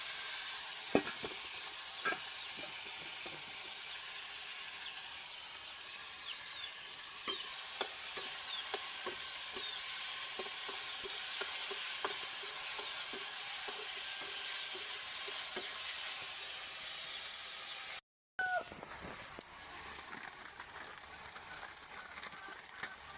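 Ginger-garlic paste, tomato and green chilli fry in a pan with a constant hissing sizzle and scattered crackles and pops, broken by a brief dropout before the frying resumes.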